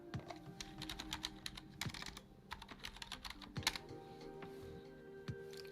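Typing on a computer keyboard while setting up a live stream, steady irregular clicks and clacks of keys close by, running continuously with no talking.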